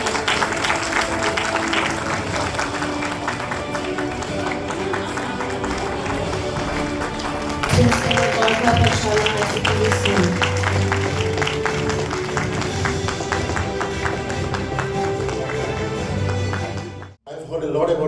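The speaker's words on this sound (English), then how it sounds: "Continue with the applause," A school audience keeps up its applause in a sustained, busy patter of clapping, with talk heard through it and a brief drop near the end.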